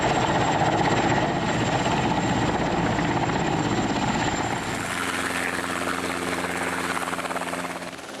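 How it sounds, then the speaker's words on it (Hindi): A helicopter sets down on a flat landing spot in mountainous terrain, its rotor and engine roaring loud and steady close by, the thudding dropping to a lower, smoother whine as it settles. "समतल जगह देखकर ही हेलीकॉप्टर को लैंड कराया जाता है।"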